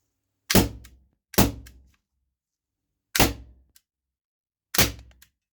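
Four sharp, loud shots from a gas-powered HDR rubber-ball revolver go off alone, two in quick succession and two more spaced apart, each fading quickly.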